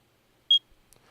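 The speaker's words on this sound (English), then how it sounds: "As the spider gets closer and closer to you, it beeps." A single short, high-pitched electronic beep from a video game's spider proximity warning sounds alone against near silence, followed by a few faint soft clicks.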